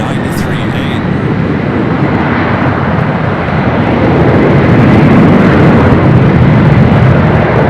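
A Delta airliner's jet engines roar loud and steady at LAX, a broad sustained rumble that swells slightly toward the end, with a voice talking over it.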